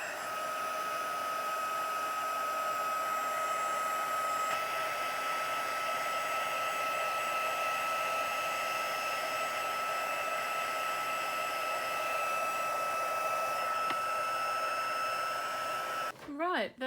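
A heat gun blows in a continuous, steady whir while melting embossing powder on a floral birthday card, then cuts off abruptly near the end with a brief clatter.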